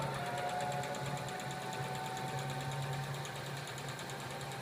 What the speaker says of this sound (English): now I'm just going to sew in about 1/4 inch all the way around that